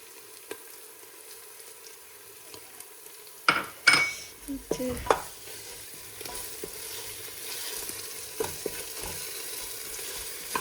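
Onions and spice powders sizzle steadily in a pan for a Kerala biriyani; partway through, a utensil scrapes and clinks against it a few times as the contents are stirred.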